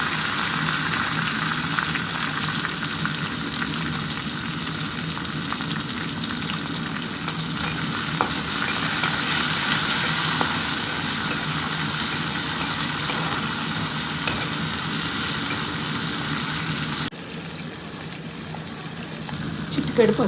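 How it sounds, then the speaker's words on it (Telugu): Sliced onions and curry leaves fry in hot oil after the tempering spices, with a loud, dense sizzle and occasional stirring clicks that run continuously before dropping quieter near the end. "పోపు దినుసులు వేగిన తర్వాత ఉల్లిపాయ ముక్కలు కరివేపాకు వేసేసుకొని వేయించుకోవాలి."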